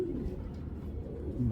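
Racing pigeons at a farm coo softly and close by, low throaty rolls rising and falling in a brief continuous murmur.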